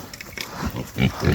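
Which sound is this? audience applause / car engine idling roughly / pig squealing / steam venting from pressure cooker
pig squealing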